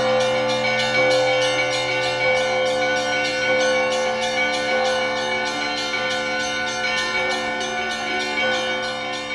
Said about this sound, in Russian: И я сегодня первым звоном открывал фестиваль колокольного звона.